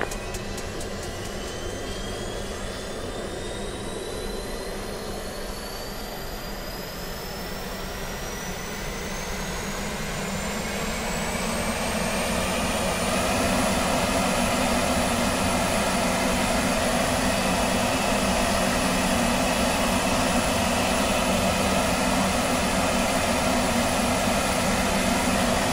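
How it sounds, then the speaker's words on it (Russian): The auxiliary turbostarter of an L-39C jet trainer in DCS World spools up with a rising whine that climbs steadily in pitch, then settles into a loud, constant high-pitched roar over a broad engine rush. "Убедитесь по звуку о начале запуска вспомогательного двигателя"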